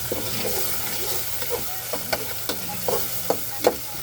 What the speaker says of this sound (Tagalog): Igigisa lang natin guys. Ayan po, malapit ng maluto ang ating kamatis.